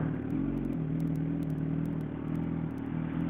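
A Harley motorcycle engine idles in a garage and gives a short rev, a steady loud low rumble with a slight swell partway through and no talk over it.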